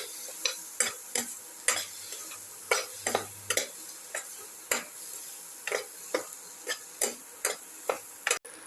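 A cucumber and potato casserole mixture is stirred in a pot, about fifteen sharp scraping clicks in an uneven rhythm with quiet pauses between them.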